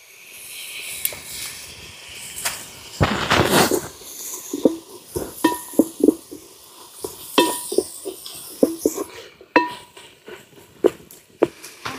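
A spoon stirs tomato onion paste into a cashew masala in a pan, with a brief sizzling burst followed by a steady series of scraping, clinking strokes close up.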